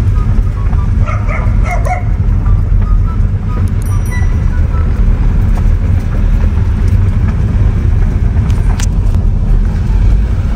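A small car being driven at around 30 km/h, heard from inside as a loud, steady low rumble of engine and road noise, with faint dog barking in the distance early on.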